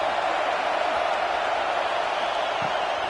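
Ohio State Buckeye football stadium crowd roaring on third down, a dense, steady wall of cheering and noise from a large crowd that holds at full level for a few seconds.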